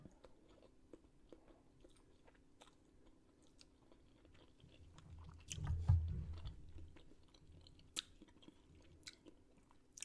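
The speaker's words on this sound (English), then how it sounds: "certain places are a little crunchier than others because I fried them" Fried ramen noodles are chewed up close, with quiet, intermittent crunchy bites and one louder, heavier crunching burst midway through.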